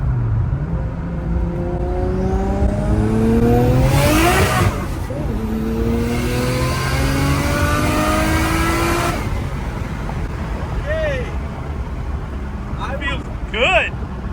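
A Nissan R33 Skyline with a stock 2.6 engine, head work, single turbo kit and intercooler revs and pulls hard in rising sweeps, fairly close and loud, then fades, with people talking throughout.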